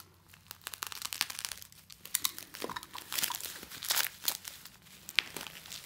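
Plastic album packaging for Monsta X's The Code being cut open down the middle, giving close, irregular crinkling and crunching bursts over about six seconds with no talking.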